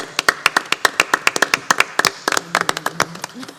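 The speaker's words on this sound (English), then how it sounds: "join us in giving these ladies a round of applause" A small audience at a board meeting applauds, a run of distinct, fairly close hand claps in a loose uneven rhythm that thickens and gets busier partway through, with no talking over it.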